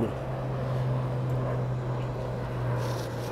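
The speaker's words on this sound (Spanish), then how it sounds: "Allá va despegando una TR de Satena por la pista sur" A Satena ATR airliner taking off from the south runway at El Dorado in Bogotá, a steady propeller drone with a strong low tonal hum, heard from a distance and sustained throughout.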